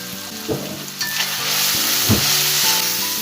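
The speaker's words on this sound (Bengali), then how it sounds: "এর সাথে খুব ভালো করে ভেজে নিব" Dried tuna fries with potatoes, cumin and turmeric powder in a loud, close, continuous sizzle, broken by a couple of scraping stirs of the pan.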